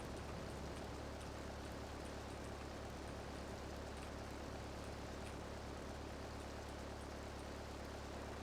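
Steady rain in Grand Theft Auto III, a constant broadband hiss that holds at an even level throughout, with no voices.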